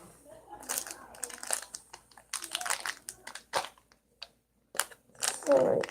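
Plastic packaging of Dude Wipes being opened gives bursts of crinkling and crumpling in irregular clusters, close and fairly loud, with brief pauses and a voice speaking at the end.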